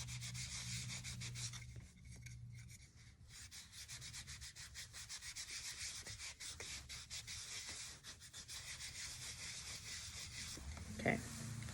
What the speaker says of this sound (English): I'm gonna rub it onto this ornament because I want this to have a little stain feel to it